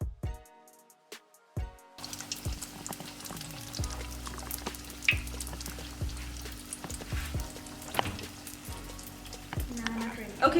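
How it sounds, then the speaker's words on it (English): Vetkoek (amagwinya) dough frying in hot oil in a pot, a steady close crackling sizzle with scattered pops and bubbling that starts abruptly and continues throughout. "over here I've got my hot oil. So now I'm gonna go ahead and start putting it in"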